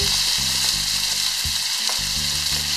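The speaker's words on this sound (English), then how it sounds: "I'm going to get these pieces nice and brown" Pieces of curry lamb browning in a hot pan give a loud, continuous close sizzle, with low rhythmic bumps of the meat and pan shifting throughout, no talking.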